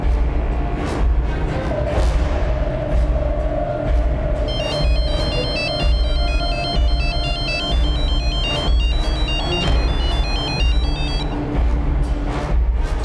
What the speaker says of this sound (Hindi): सर, वो लड़का फोन नहीं उठा रहा है।